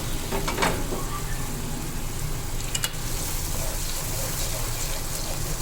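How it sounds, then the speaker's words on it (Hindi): Beef paya masala with tomatoes sizzles and crackles steadily in a pan, a dense continuous frying hiss with occasional small pops and stirring scrapes, close and fairly loud. "5 मिनट हो गए मसाले को भूनते हुए।"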